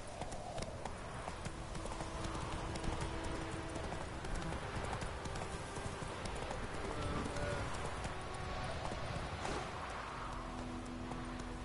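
Roach, Geralt's horse in The Witcher 3, clip-clops along at a steady walking pace over a continuous ambient bed, the hoofbeats close and even throughout with faint speech in the background.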